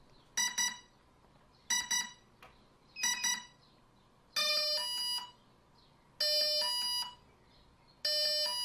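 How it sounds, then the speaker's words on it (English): A drone's ESC gives a calibration series of electronic beeps after the battery is plugged in: three short tone bursts, then three longer sustained multi-tone beeps, evenly spaced and fairly close. "we're going to plug in the battery and we're going to wait for the ESC to finish beeping"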